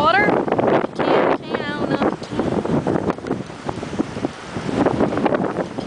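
Strong gusty wind buffets the microphone near stormy open water in New Brunswick in summer, with a person talking over the roar throughout.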